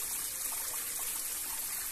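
Water flows in an uphill stream near a runestone site, a steady soft trickle close by with no talk.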